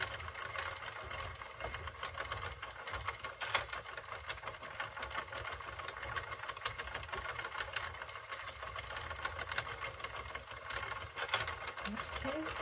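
A circular knitting machine works rows of main yarn for wrist warmers, its crank driving a continuous fast rattling clatter that stays steady and close throughout, with a couple of sharper clicks along the way.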